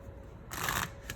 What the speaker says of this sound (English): I'm going to give the second deck a little shuffle.